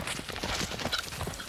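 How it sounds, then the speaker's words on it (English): Horse hooves clip-clop in a quick, steady rhythm, close and fairly loud, with a brief whinny-like tone in the middle over outdoor ambience. "I'm not good on horses."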